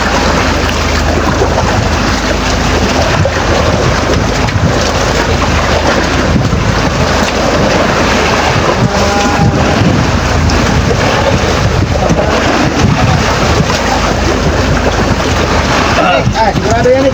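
Sea waves surge and wash continuously around a fishing boat on the open ocean, a loud, dense roar of water and wind that fills the whole stretch, with faint voices underneath.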